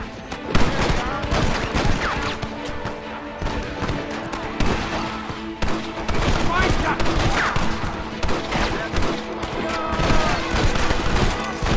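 A shootout in the video game Red Dead Redemption, with dense, rapid gunfire crackling continuously and loud, close and overlapping, while shouted voices cut in among the shots.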